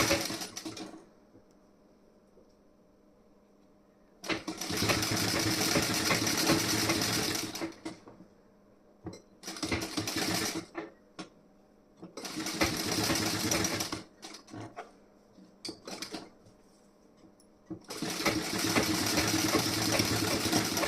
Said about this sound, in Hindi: यहाँ पे आपको पक्की वाली सिलाई लगानी है,